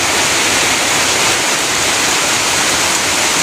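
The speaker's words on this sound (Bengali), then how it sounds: "ঝুম ঝুম ঝুম ঝুম বৃষ্টি হচ্ছে।" A steady downpour of heavy rain falls outside a village house, a loud, unbroken hiss and roar that fills the whole stretch evenly and close by.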